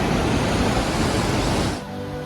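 A swollen river rushes fast below a mountain road near Nainital, a loud steady broadband roar that drops away abruptly near the end.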